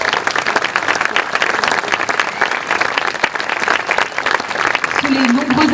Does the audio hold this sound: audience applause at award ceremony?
yes